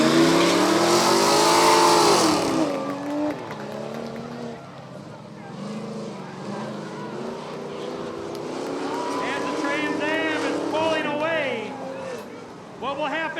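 Spectator drag racing at Rockford Speedway: a BMW and an American muscle car launch and accelerate with loud rising engine roars, then fade into the distance, with crowd noise and a commentator talking over the cars.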